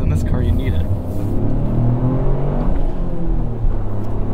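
Toyota GR Corolla engine revving under acceleration, a throaty rumble rising and falling inside the cabin while people talk over it.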